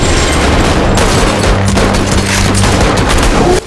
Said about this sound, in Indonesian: Kolonel Kato memerintahkan untuk melepaskan tembakan.